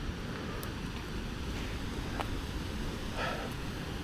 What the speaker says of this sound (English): you can hear the water crashing even in this little stream on this little offshoot